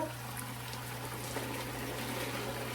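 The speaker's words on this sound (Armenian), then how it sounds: "ջուր էի դրել, որ եռար" Water heats toward a boil in a pot on a home kitchen stove for blanching tomatoes, a steady low bubbling and watery rumble with a constant hum underneath.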